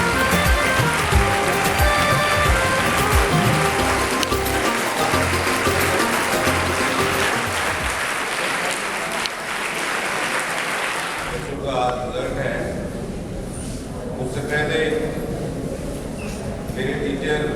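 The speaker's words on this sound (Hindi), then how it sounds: "चौकीदार से लेकर प्रिंसिपल तक पूरा आधा मिनट तालियां बजाएं।" An audience claps at a school annual result ceremony, a dense, loud and sustained wash of applause that continues steadily for many seconds before thinning slightly.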